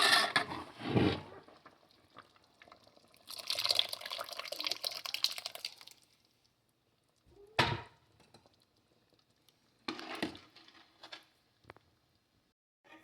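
Tamarind water pours and splashes into a pot of eggplant and mango kuzhambu in a few short bursts, with quiet gaps and faint drips between them.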